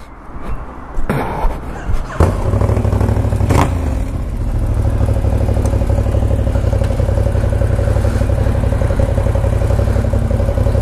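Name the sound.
loud motorcycle riding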